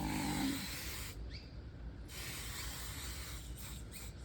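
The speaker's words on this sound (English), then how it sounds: "this is the basting spray that I use. Yeah, so I'm just going to spray this quickly" Basting spray hisses from a can onto fabric for quilting or stitching, a steady broadband spray lasting a few seconds, close and fairly quiet with short breaks.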